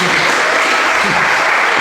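A talent show crowd claps loudly and continuously, a dense wash of applause filling the space, with a voice faintly mixed underneath.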